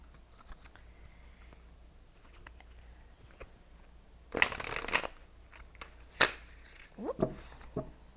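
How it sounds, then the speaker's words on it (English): Tarot cards riffle-shuffle in quick, close bursts, with soft taps and handling noises between them in a quiet room. "Whoops, that was a terrible shuffle."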